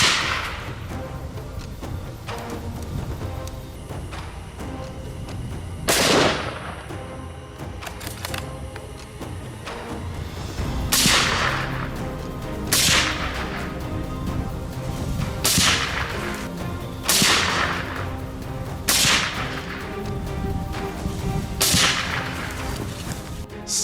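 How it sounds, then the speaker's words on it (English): Shots from silenced .308 and .300 Blackout rifles used on wild boar at night, heard as about seven sharp suppressed cracks at irregular intervals over a steady background, fairly close and moderately loud. "Silenced .308 and .30 blackout rifles ensure a quick, humane knockdown with minimal disruption to surrounding wildlife."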